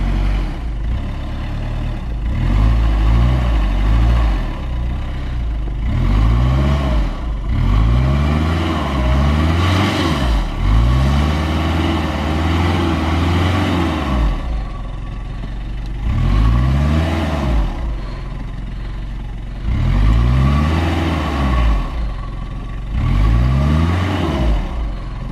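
A stuck Mitsubishi Delica revs its engine hard while its wheels spin and dig in, in long rising and falling surges repeated several times, loud and close.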